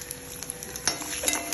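Chopped garlic frying in a pan for a tamarind vadhal kulambu, a soft, close sizzle broken by small utensil clinks and stirring taps.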